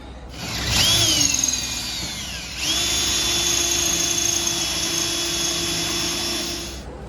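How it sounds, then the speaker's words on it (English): A power drill bores a hole through the back of a part, whining loudly up to speed, briefly easing, then running steadily in a long close drone before winding down. "We're going to drill a hole through the back of this"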